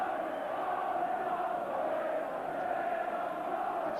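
Large football crowd of nearly 28,000 at Anfield, Liverpool versus Tottenham in 1985, a steady broad roar with no single shouts standing out, held at an even level throughout.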